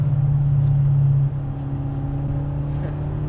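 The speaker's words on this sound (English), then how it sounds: "100 mile an hour on the Nürburgring." A car speeds around the Nürburgring, a steady droning engine hum heard from inside with a pitch drop partway as it eases off, close and unbroken.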